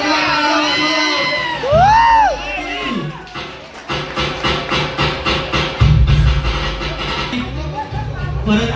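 A loud crowd cheers, whoops and claps together at a Navratri costume competition, several bursts of shouting and applause rising over a busy background with some talk mixed in.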